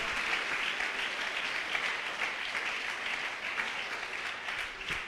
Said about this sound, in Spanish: Dele ese aplauso.